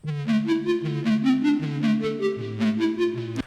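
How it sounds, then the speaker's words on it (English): A bright synthesizer arpeggio made in Serum cycles rapidly through chord notes in a steady, even rhythm over sustained bass tones, loud and clear with no voices. "we have an arpeggiator, which I made in Serum."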